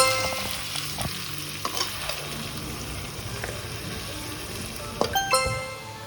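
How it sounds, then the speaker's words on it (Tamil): Mutton pieces lifted out of gravy fry separately in a home kitchen, giving a soft, steady sizzle with a few light utensil clinks and stirring scrapes, louder briefly near the end. "மட்டன் ஃப்ரைக்கு கிரேவிலேருந்து மட்டனெல்லாம் எடுத்து தனியாக ஃப்ரை பண்ணுறோம்."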